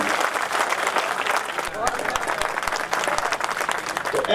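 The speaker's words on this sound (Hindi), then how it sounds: "जोरदार ताली बजाकर स्वागत करना" A political rally crowd at a Congress nomination event in Budhni applauds loudly in welcome, sustained dense clapping with a slight dip midway and some voices mixed in.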